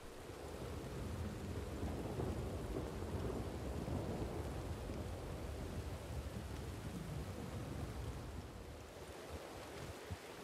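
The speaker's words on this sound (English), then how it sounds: "it started raining" Steady rain with rolling thunder in the game Red Dead Redemption 2, a dense, continuous wash of falling rain under deep low rumbles, even and sustained for about ten seconds, thinning slightly near the end, with no voices.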